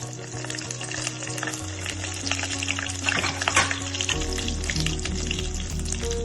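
Cumin, mustard seeds and dry red chillies fry in hot oil, a dense, close crackling sizzle with popping and stirring throughout, loud and steady without talk.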